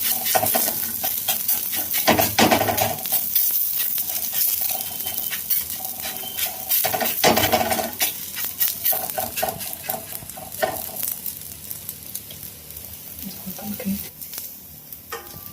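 Continuous sizzling and crackling of mixed-flour thalipeeth flatbread dough on a hot griddle, with intermittent pats and scraping taps layered over it; close and fairly loud.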